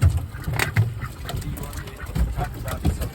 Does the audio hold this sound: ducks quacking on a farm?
yes